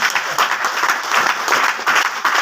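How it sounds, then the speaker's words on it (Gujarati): An audience in a municipal hall in Gandhinagar breaks into dense, sustained applause for a speaker, many hands clapping loudly and continuously throughout. "તો એમના માટે જોરદાર તાળી થઈ જાય"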